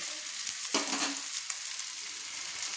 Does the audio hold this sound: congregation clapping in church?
no